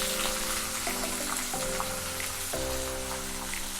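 Onions fry in a pan for a restaurant-style paneer capsicum curry, giving a steady, soft sizzle that runs throughout under sustained tonal background music.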